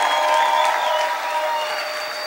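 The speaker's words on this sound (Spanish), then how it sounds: "Grita y aplaude fuerte al Rey." A church congregation claps and shouts loudly in praise, a dense, close wash of applause with voices crying out and lingering tonal sounds throughout.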